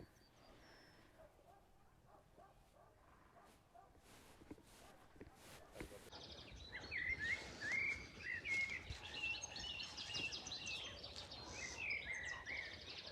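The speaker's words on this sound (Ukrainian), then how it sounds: "Так гарно пташки співають." Birds chirp and trill in the open, growing busier in the second half, with scattered rustles and a few faint background noises.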